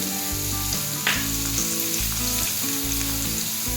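Raw mango pieces added to a hot pan for a sweet mango-peanut chutney, a steady loud sizzle and spatter close by with a brief sharper burst of crackling as they hit the oil.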